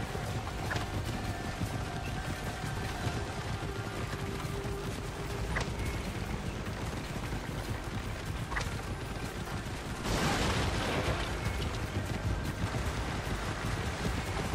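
Horse hooves clopping at a steady, fairly fast rhythm in Assassin's Creed Origins, set in ancient Egypt, a continuous galloping beat under a rumbling background, with a brief louder rushing burst around ten seconds.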